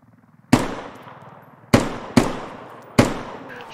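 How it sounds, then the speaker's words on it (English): Loud gunshots in a military shooter game, Gorodok map, four sharp cracks spaced irregularly with ringing decay, preceded by faint rapid ticking in the background. "Shots from the northwest."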